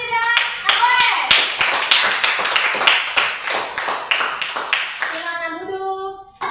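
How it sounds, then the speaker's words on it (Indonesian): A school class claps for two students, a quick run of sharp, distinct handclaps from a small group that stops abruptly, followed by a voice speaking. "Tepuk tangan untuk Bari dan Agoes."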